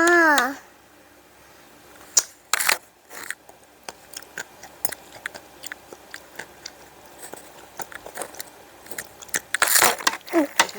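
A crunchy snack, glass noodle chips, being bitten and chewed close to the mic, with sharp crisp crunches scattered across the clip and a loud cluster near the end, plus a brief voice at the start.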